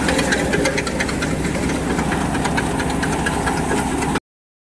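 A mustard-threshing machine runs steadily at night, its engine churning with a dense, loud knocking drone that stays constant before cutting off abruptly.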